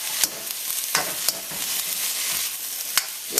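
Trimmed one-inch pieces of yard beans (bodi) sizzle in a hot pan over medium-high heat, with a steady frying hiss broken by several sharp scraping stirs.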